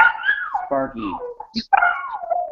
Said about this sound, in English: my cat just came in through the window, and now my dog